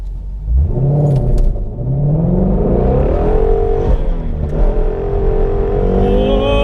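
The engine of a 2016 Ford Shelby GT350 Mustang revs hard and close, its loud rising roar climbing through several high-RPM sweeps and falling back, with no talking.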